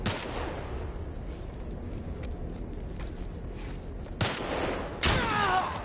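Gunfire in The Last of Us Remastered, a dense fusillade of rapid shots with louder close bursts near the end, mixed with game ambience and no talk.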